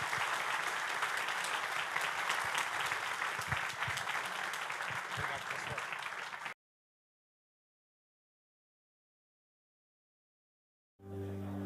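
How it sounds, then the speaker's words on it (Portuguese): A church congregation claps and cheers loudly for about six seconds, a dense, sustained burst of applause that cuts off abruptly into silence before a low tone returns at the end. "Dê uma forte salva de palmas ao Senhor Jesus Cristo."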